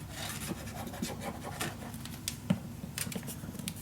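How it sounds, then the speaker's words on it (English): Paper piece glued onto a Stamperia Grand Hotel mini album and burnished down by hand, giving soft, close rubbing and rasping strokes in an irregular rhythm with a few light taps, fairly quiet and without talk. "Okay, burnish it down."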